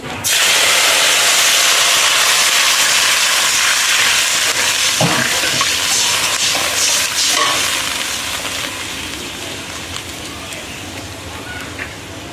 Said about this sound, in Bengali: জিরেটা আমার ভাজা ভাজা হয়ে গেছে, আমি এখন জল দিয়ে দেব।